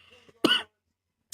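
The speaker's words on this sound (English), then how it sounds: "I'm gonna be coughing all night, guys" A single sharp cough from a man, followed by a brief throat noise a moment later, close and fairly quiet, after a few soft words.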